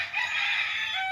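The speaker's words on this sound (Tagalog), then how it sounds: "mga breed na mga manok" Bred rooster on a walled farm lot in Liliw, Laguna, crowing once in a sustained, bright call lasting about a second, clear and fairly close.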